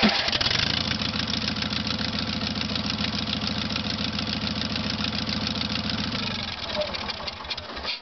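Old engine with freshly fixed ignition coil and points and an untuned carburetor, started and then idling rich with a steady lumpy throb, fairly close and continuous, with a brief change in tone near the end.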